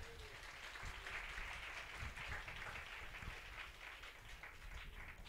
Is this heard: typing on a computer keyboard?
no